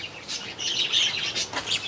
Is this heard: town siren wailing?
no